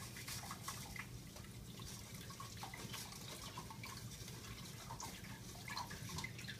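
Water pours and splashes as soil is washed through coarse and fine sieves, a quiet continuous trickle with small drips and spatters, no voices.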